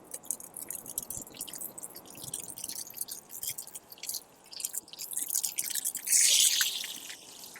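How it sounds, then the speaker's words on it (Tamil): Mustard seeds splutter and pop in hot oil during tempering for a village-style mutton dish, a steady crackling fizz of small quick pops that grows louder toward the end. "கடுகு பொரிஞ்சிடுமே அதை நம்ம சேர்த்துடலாம்"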